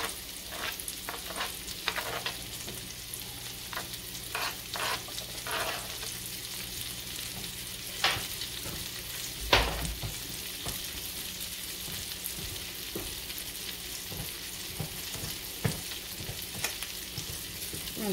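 Sliced red and yellow onions fry in a pan, a continuous close sizzle broken by repeated spoon scrapes and taps at irregular intervals, one sharper knock near the middle, with no talking.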